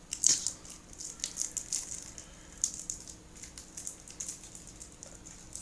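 Small scissors cutting open the packaging of a new Space Time Showdown card deck, giving quiet close crisp snips and crinkling plastic in a soft irregular series.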